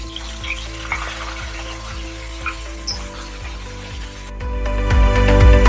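Masala paste fries over cumin in a pan for dahi baingan, sizzling steadily with a low hum underneath and a few light taps, then turning louder and harsher in the last second or so.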